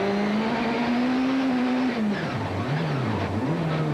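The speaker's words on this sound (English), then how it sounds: "You can hear him real smooth as he works his way up through the gears." A 1995 Toyota Celica Pikes Peak hill-climb race car races up the mountain, its engine note climbing steadily and loudly, then dropping sharply at each upshift before rising again, a continuous close roar with no talk.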